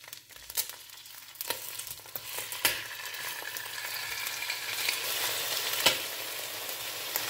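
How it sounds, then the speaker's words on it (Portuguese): Chicken thigh and drumstick pieces sizzle skin-down in olive oil in a large pan, a steady crackling fry with sharper pops and spatters now and then, moderately close and with no talking. "Agora eu vou colocar mais um pouco de azeite aqui e eu já vou colocar os pedaços de frango."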